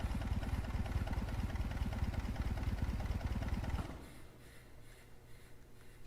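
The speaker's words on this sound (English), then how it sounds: "So that's the engine sound, and then there's another engine sound right here." A sampled engine runs loud and steady with a dense, throbbing idle for about four seconds, then cuts to a quieter, thinner mechanical hum that continues to the end.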